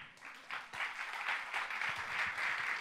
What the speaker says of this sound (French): vous pouvez applaudir les enfants même.